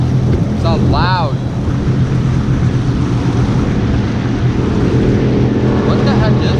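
2018 Sea-Doo RXT-X 300 personal watercraft with Riva Racing Stage 1 tuning running down a waterway, a loud, steady engine drone with heavy wind buffeting and brief whistle-like chirps.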